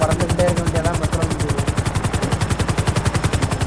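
A helicopter in a video game chops steadily with a fast, rhythmic rotor pulse that is loud and close and runs throughout, while voices talk over it.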